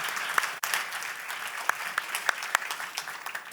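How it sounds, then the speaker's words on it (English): A conference audience applauds the panelists at a plenary session, a moderate, continuous patter of many hands with a few sharper individual claps standing out, heard from within the hall. "Let's give another round of applause to our panelists."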